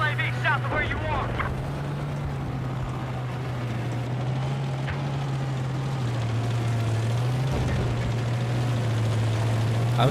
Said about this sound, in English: they put a jet engine to an Abrams